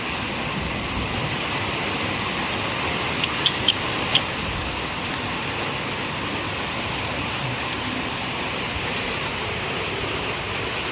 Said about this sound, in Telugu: వర్షం బాగా గట్టి పడుతుంది